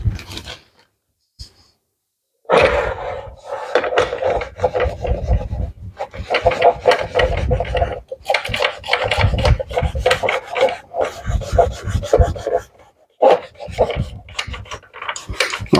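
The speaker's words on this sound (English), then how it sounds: "Now I'll get my other cloth and buff it off." A cloth buffs wax off a lower saw guard with brisk rubbing strokes, close and loud, in bursts broken by short pauses and a quiet stretch at the start.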